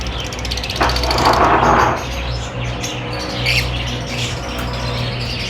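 Lovebirds kept as breeder pairs in a bird shop squawk in a noisy burst of overlapping chatter, loudest early on, then settle into steady background calls and chirps.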